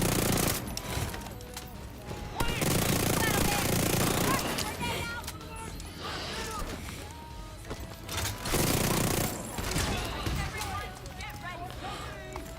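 Rapid automatic gunfire and pistol shots from The Division 2 shooter, with combat against a turret, come in dense bursts across the clip, loud and sustained with brief lulls, mixed with game effects and talk.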